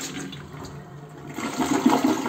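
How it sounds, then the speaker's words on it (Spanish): A household toilet flushes in a bathroom, the rush of water building and growing louder toward the end, heard alone without any talking. "así cada que descarguen el agua de su baño"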